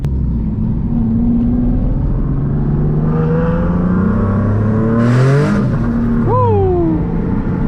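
Boosted Nissan 370Z engine pulling hard under acceleration, a loud close droning rev that climbs steadily through the gears, with a brief whoosh and shift before rising again.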